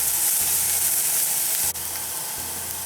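Onions sizzling and browning in a de Buyer carbon steel pan during a stir-fry, a steady, loud, close frying hiss with one brief sharp scrape partway through and no voices.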